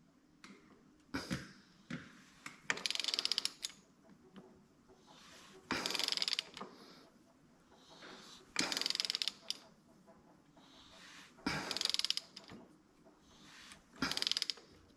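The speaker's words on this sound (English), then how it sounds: "I am drawing it in with the ratchet." A ratchet draws the 5th gear onto a Volkswagen 02J transmission in slow separate strokes, each a burst of close clicking followed by a quiet pause, about six strokes in all.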